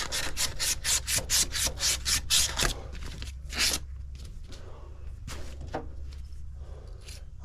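Tubing cutter being turned around copper tubing during an AC unit replacement, giving a rapid series of about a dozen close rasping scrapes, then slower, sparser strokes with pauses.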